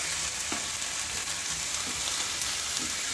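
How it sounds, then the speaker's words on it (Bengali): Garlic and ginger paste frying with browned onions in a pan, a steady close sizzle with occasional stirring scrapes, no voices. "এটা পেঁয়াজের সাথে ভালো করে ভেজে নিচ্ছি"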